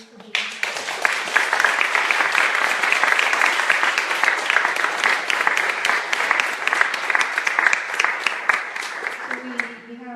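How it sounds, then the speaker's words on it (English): Audience at a bilingual closing event applauds the speakers and organizing team, a dense, steady wash of many hands clapping that runs the full length and tapers at the end, with voices briefly audible near the start and close. "a big round of applause"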